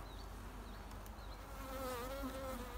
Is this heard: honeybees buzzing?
yes